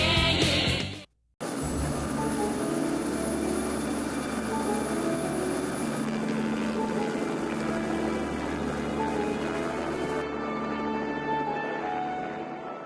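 A Bell 47 G4 helicopter in flight at a Pitt Meadows training school gives a loud, steady engine and rotor roar that drops out briefly near the start, then continues unbroken.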